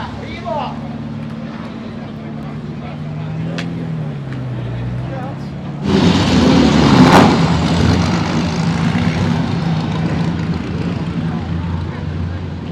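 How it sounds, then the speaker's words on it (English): Classic Nash Healey sports car at the Mille Miglia 2025 rally in Italy, its engine note rising and swelling loudly as it passes near, over a background of crowd and street noise. "And there's another Nash Healey."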